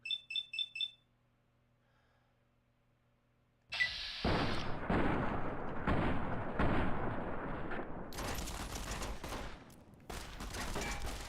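Bursts of submachine gun fire in Fallout: New Vegas break out after a few seconds of near silence and a short beeping tone, continuing as a loud, dense run of rapid shots with brief gaps.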